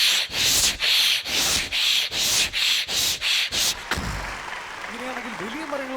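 A voice imitates a hand saw cutting through a small tree, with about nine quick, even rasping strokes in a tight back-and-forth rhythm, loud and close, ending in a sharp crack and a murmur of audience noise.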